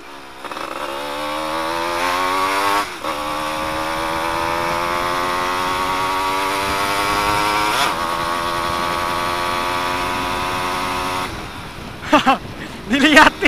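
A Yamaha F1ZR two-stroke motorcycle with its exhaust muffler removed, revving loud and close in a raspy, rising buzz that climbs steadily, dips briefly and climbs again, ending in sharp throttle blips.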